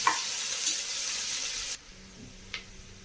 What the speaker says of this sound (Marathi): कांदा आपल्याला चांगला गोल्डन ब्राऊन तळून घ्यायचा आहे